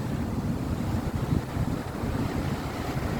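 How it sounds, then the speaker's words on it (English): Huge waves crash against a seawall in a continuous loud roar of surf, heard from close behind the wall and buffeted by heavy wind noise on the microphone. "the waves are humongous today"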